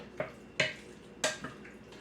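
A utensil stirs cranberry sauce and dried cranberries into a Catalina cranberry chicken mixture, making a few soft, faint clinks and scrapes against the bowl.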